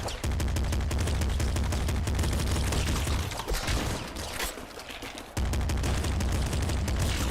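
Rapid gunfire in the video game Nuclear Throne, dense, loud bursts of shots in a near-continuous stream with a short lull in the middle before firing resumes.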